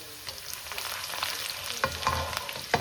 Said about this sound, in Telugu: దాని మీద కొద్ది జీలకర్ర, అది కొద్దిగా వేగుతున్నప్పుడు